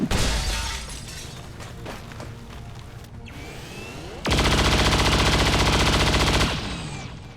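Rapid automatic gunfire aimed at a shield bearer in XCOM 2, loud bursts with glassy shattering and a sustained, dense volley in the second half, no speech.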